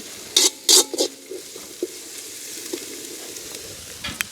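Onion and chilies sautéing in hot oil in a large pan for village-style egg cutlets, with a few loud bursts of sizzle and stirring early, then a quiet, steady low crackle alone.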